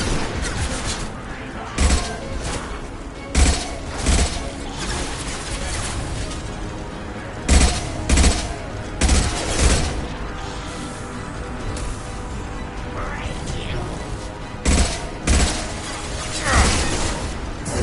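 Gunfire in the video game Mass Effect 2 sounds as loud, close bursts of shots with booming impacts, spaced irregularly over a continuous battle background, with voices speaking in between.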